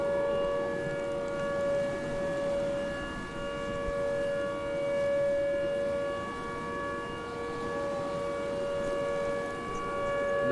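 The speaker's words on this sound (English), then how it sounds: "No, the sirens don't rotate yet." Tornado warning sirens in the storm game Tornado: Research and Rescue wail in a steady, sustained tone that rises and falls slightly, loud and continuous over a rumbling wind-like background with no voices.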